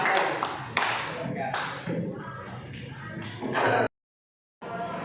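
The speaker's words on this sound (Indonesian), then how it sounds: "Boleh tepuk tangan untuk kelompok 2." A classroom gives scattered clapping for a presenting student group, irregular claps and shuffling mixed with voices nearby, ending abruptly before a brief silence.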